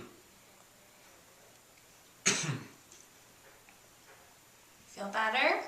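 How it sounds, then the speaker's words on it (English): Two harsh coughs come a few seconds apart in a quiet room, the second followed by a brief voice. "Keep coughing."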